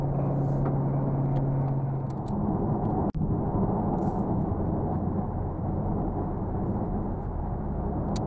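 A 2015 Dodge Charger SRT Hellcat cruising on winding roads, heard from inside as a steady, dense engine and road rumble with one sharp click partway through; no talk.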